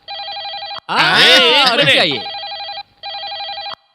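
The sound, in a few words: telephone ringing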